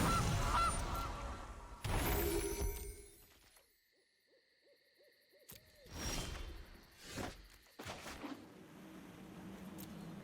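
A cartoonish goose honk sound effect from the digital card game Magic: The Gathering Arena, a few loud honks and hooting calls with whooshing game effects before and after.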